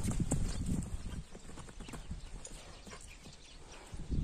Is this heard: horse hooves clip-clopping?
yes